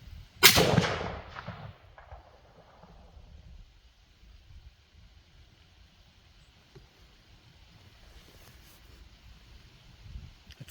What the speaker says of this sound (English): Again, we're shooting the 30-06 at approximately 80 yards.